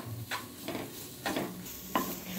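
Chopped onions sautéing in oil in a pan while being stirred for a green gram gravy, giving a steady close sizzle with a few louder scraping stir strokes, no voices.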